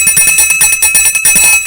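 A high-pitched metal bell rung in a Candomblé terreiro, brighter and sharper than an adjá, ringing loud and close with rapid repeated clangs and sustained shimmering overtones, heard alone.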